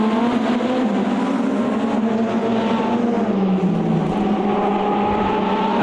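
Video game racing car engines roar continuously, revving and shifting pitch as cars drive close by, loud and steady throughout with no talking.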